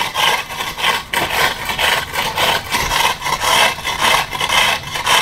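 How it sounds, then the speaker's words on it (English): Repeated scraping strokes of a rake dragging paver patio base material level, a rhythmic gritty rasp close up and fairly loud, with no talking. "So what I'm going to do is rake this down."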